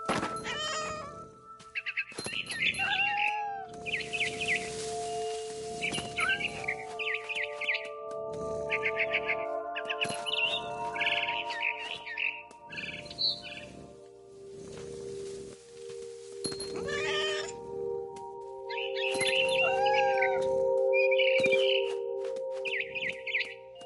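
Repeated cat meows and chirpy mews from the game What Remains of Edith Finch on PS4, over a synthetic background with tonal hums and occasional thumps, no talking.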